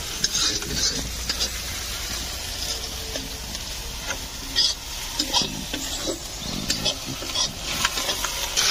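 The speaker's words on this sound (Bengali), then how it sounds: "মাংসের আলু ভাজছি আর উপরে মাংস হচ্ছে, আর ওটা ভাজা হয়ে গেলে দিয়ে দেবো একসাথে।" Potatoes frying in oil and being stirred while meat cooks at a winter picnic, a steady sizzle broken by repeated scraping and clinking stirs close to the pan.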